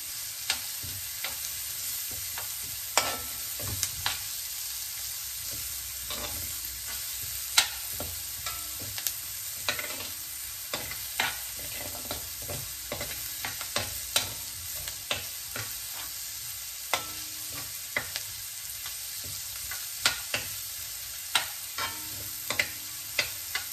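Onions sautéing and browning in a pan for chicken curry, a steady close sizzle broken by frequent sharp scrapes and clicks of a spatula stirring, with no talking.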